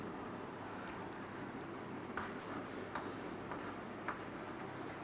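Chalk or marker writing on a board during a chemistry lesson on solutions, with soft continuous scratching strokes and a few light taps, close and fairly faint.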